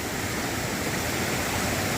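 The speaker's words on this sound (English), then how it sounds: "the current is pretty swift" Swift stream current on a hiking trail rushes in a steady, dense broadband roar, loud and unbroken throughout with no voices.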